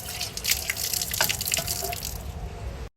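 Water running from a tap over a flower basket being rinsed, a close splashing gush with drips and irregular spatters, stopping abruptly near the end.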